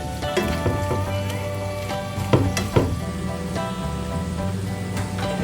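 Onions fry in a pan with a steady, close sizzle and crackle, and a few louder pops and stirring scrapes break in midway.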